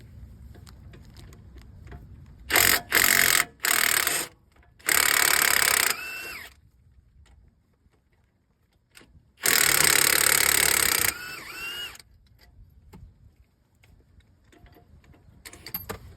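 Bursts of a ratchet or power tool loosening the bottom strut bolt, a 15 mm bolt, on a 2013 GMC Yukon during front CV axle work: several short loud rattling runs, then a longer burst, separated by quiet garage gaps.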